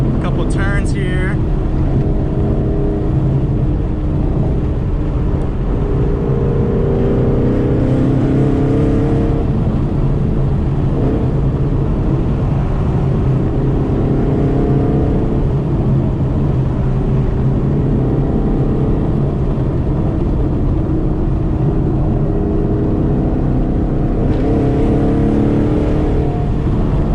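Ford Mustang GT 5.0 with a ghost cam and Lund Racing tune, heard while driving: a loud, steady engine drone with brief revving swells, constant throughout, with occasional talk over it.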